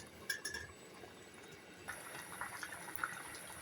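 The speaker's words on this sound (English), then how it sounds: "And the beef as well is boiling away." Beef boiling in a pot on the stove gives a faint, soft bubbling and liquid churn, with light clinks of pans close by in a quiet kitchen.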